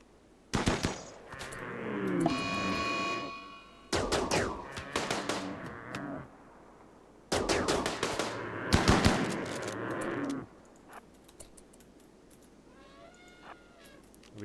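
RimWorld video game combat: several loud bursts of rapid gunfire separated by short pauses, with a brief animal-like cry near the end.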